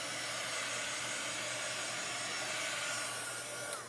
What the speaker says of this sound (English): a hair dryer at cool speed is the best